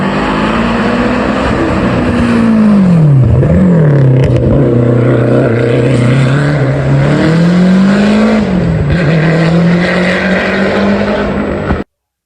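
A Lancia Delta accelerates hard at the Prescott Hill Climb, its loud engine note rising and dipping through gear changes as it passes close by, with a steady rasping roar filling the whole run.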